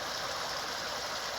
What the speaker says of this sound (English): the waterfall has actually gone from up the end there now, and I've moved it round to the side here